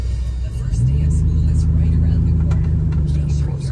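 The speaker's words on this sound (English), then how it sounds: "this is gonna be a 0 to 60 with the 7mm spark plug wires that I have" A pickup truck fitted with 7mm spark plug wires accelerates from 0 to 60, producing a loud, steady engine rumble and drone heard close from inside the cab throughout.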